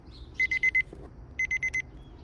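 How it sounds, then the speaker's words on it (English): An electronic alarm beeps in two quick bursts of four high-pitched tones, separated by a short pause. "Oops, sorry, I had my alarm on."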